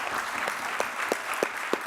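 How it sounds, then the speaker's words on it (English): Audience at a youth parliament debate applauding a young speaker, a brief and fairly quiet burst of steady applause with a few sharper claps standing out. "Let's give the young man a round of applause."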